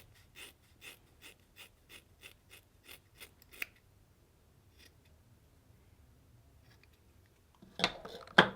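Scissors snip through hair while cutting bangs, about a dozen crisp, evenly spaced close snips in a row, then a long quiet stretch before a couple of louder rustles at the end.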